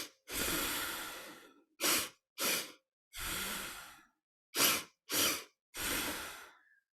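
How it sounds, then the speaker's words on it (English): Slow, deliberate nasal breathing in an in-and-out pattern: seven separate breaths, some long and others short, each a clear airy rush through the nose, close and isolated with silence between them. "So this nose breath is an in, out pattern. It sounds like this."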